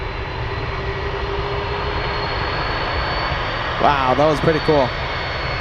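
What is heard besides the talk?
Atlas Air Boeing 747 taxiing on the runway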